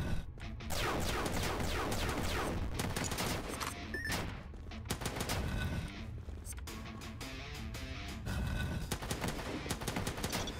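Rapid sustained gunfire from the crew gun in the video game Dungreed, a dense loud fusillade of shots running almost continuously with only brief gaps.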